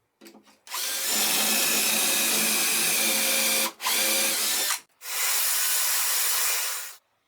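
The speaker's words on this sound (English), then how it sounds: "And I drill the hole on the other side of this piece." A power drill cuts a dowel hole into a wooden bookshelf side, a loud steady whine held for about three seconds, then a brief burst and a final longer run before stopping.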